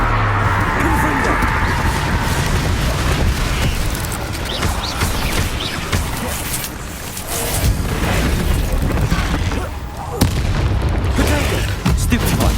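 Repeated Confringo spell blasts in the PS5 game Hogwarts Legacy, loud booming explosions and crackling bursts filling a dense, continuous combat mix, with voices shouting spell names over the din.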